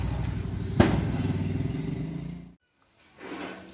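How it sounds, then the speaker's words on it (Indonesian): A household generator engine being started during a home installation setup, running with a steady harsh mechanical rumble that briefly spikes, cuts out to silence, then fires up again. "kita nyalakan gensetnya dulur ya"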